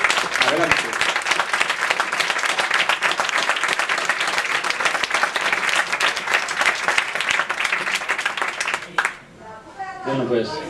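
An audience applauds a performer with dense, continuous clapping for about nine seconds, then it stops abruptly and a voice speaks.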